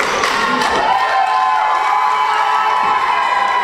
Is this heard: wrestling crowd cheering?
yes